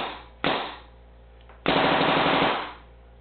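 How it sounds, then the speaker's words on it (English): PM8 submachine gun fired in a small basement with many walls, two loud bursts of rapid automatic fire, the second longer, each ringing off the enclosed room. "here's a little bit dry firing"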